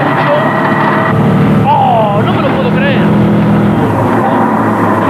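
A driver's Peugeot rally car at the 2001 Acropolis Rally runs rough with a sick engine misfiring on three cylinders, an uneven loud onboard drone with a voice speaking over it.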